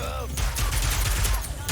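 Rapid bursts from a blaster in Ratchet & Clank: Rift Apart chatter across under a couple of seconds, several closely spaced loud shots over game music and effects.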